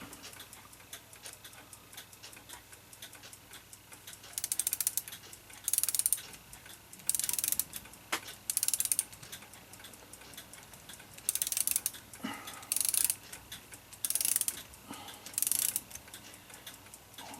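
An 1898 Seth Thomas kitchen clock is wound by hand, giving bursts of quiet ratcheting clicks from the key and gears that repeat every second or so. A faint ticking and room hum sit underneath.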